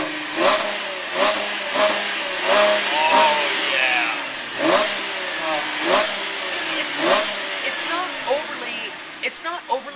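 A 2010 Chevrolet Camaro V6 engine revved repeatedly up close, a series of rising and falling throttle blips in steady rhythm, with someone speaking briefly over it.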